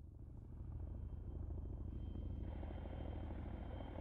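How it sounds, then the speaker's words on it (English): A Chinook helicopter flies in a military shooter game with a loud, continuous rotor thump and engine rumble that holds steady and close the whole time. "Oh, hey, look, it's a Chinook."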